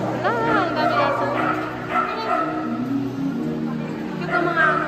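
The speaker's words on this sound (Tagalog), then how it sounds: "Wala, ang daming aso." Many dogs barking and yipping in a crowded queue at an anti-rabies vaccination session, repeated barks with a whimper, under chatter and people talking nearby.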